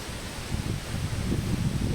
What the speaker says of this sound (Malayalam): ഇതാണ് ഭയങ്കര കാറ്റ് കണ്ടോ